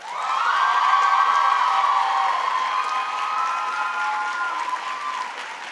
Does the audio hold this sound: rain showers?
no